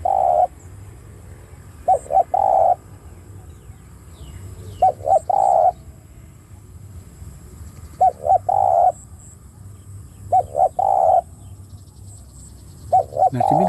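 Spotted dove decoy bird cooing close by, with repeated groups of short coos spaced every few seconds, loud and clear over a low steady background hum.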